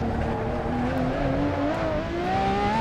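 A Ferrari 599XX race car screams around Monza in Assetto Corsa, its engine note holding a steady high drone that climbs slowly in pitch as the car accelerates on a hot lap, loud and close with no talk.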